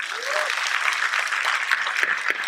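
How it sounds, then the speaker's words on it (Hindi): Applause from an audience at a special kids talent show in Indore, India, a steady dense clapping wash that holds for the whole stretch with a few faint voices mixed in. "यदि आपको मेरा कार्यक्रम अच्छा लगा हो तो"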